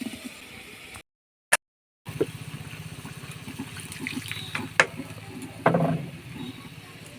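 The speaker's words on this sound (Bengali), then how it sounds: "এবার জল ঢেলে দেবো।" Water poured into a pan of frying, reddened potatoes seasoned with salt and turmeric, a trickling, bubbling pour after a short dead gap, with faint sizzle and a few clinks close by.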